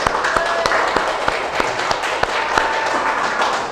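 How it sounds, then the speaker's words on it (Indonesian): A classroom of students gives a round of applause at the close of a civics lesson, a steady wash of many hands clapping with a few sharper individual claps standing out, fairly close and continuous throughout. "Oke, tepuk tangan"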